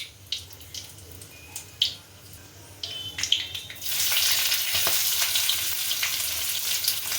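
Oil sizzles steadily after a few scattered clinks and stirring taps, the hiss rising and holding loud and close as onions fry in a pan for dalia pulao.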